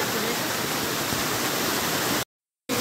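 A hidden waterfall in the Konkan region roars as a dense, steady wash of falling water, close and loud, then cuts off abruptly near the end.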